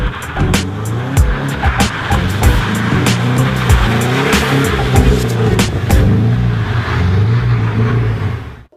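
A Triumph Daytona 675R sport motorcycle engine revving hard and loud up close, with a continuous high-pitched whine rising and falling across gear changes.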